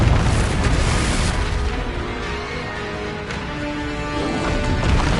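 A Confringo fire spell exploding in the Hogwarts Legacy video game, a loud, rumbling blast that fills the clip with a dense, sustained roar and crackle.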